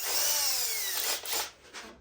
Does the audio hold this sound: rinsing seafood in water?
no